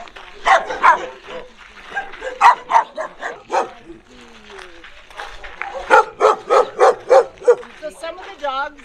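Several dogs bark in bursts at an animal sanctuary, loud and fairly close, with repeated yips and barks clustering at the start and again near the end, while a person talks between and under them.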